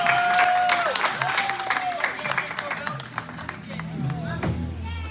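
Parents at a martial arts brown belt graduation clap and applaud while voices talk and chatter over the crowd.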